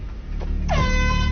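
A loud, sustained air horn blast in a dubbed action film scene, starting abruptly partway in and holding steady to the end over a low rumbling background.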